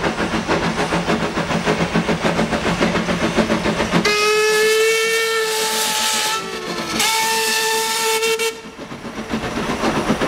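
Steam train whistle blowing two long, loud tonal blasts with a brief break between them, over the rhythmic chuff and clatter of the rolling train, heard outdoors near rocks used for climbing.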